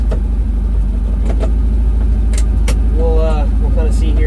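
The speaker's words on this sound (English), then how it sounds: "The car's kind of loud" A Bradley GT 2 kit car's engine runs loud and close with a constant low rumble, a few clicks and a brief voice-like sound near the end.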